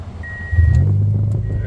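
A car engine cranks and catches, a low rumble swelling suddenly and then settling into a steady idle up close, with a brief high tone ringing beforehand.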